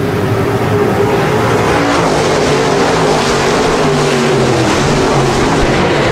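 Modified race cars in a two-lap shootout at Park Jefferson Speedway, producing a continuous loud, droning engine roar that stays steady and dense throughout, with no clear pauses.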